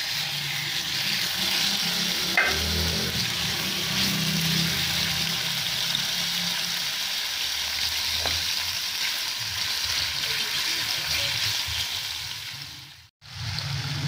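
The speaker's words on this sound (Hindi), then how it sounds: "मैं इसमें चिकन डाल रही हूँ और तब तक हमने चिकन को पकाना है जब तक ये वाइट नहीं हो जाए" Chicken pieces fry in a hot pan, loud and close with a constant sizzle, broken by a few stirring knocks and scrapes, ending in a brief sudden silence near the close; no speech.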